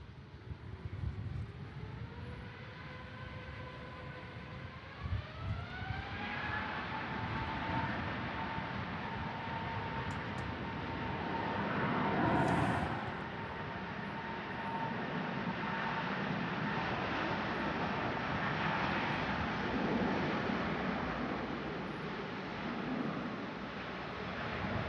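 A Cathay Pacific jet airliner at Manchester Airport roars steadily and loudly, its engine tone rising in pitch early on, then holding a sustained broadband rumble with no talk.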